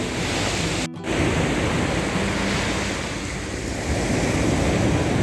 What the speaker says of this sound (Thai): แต่ช่วงเช้าทะเลค่อนข้างแรงนะครับ น้ำพัดแรง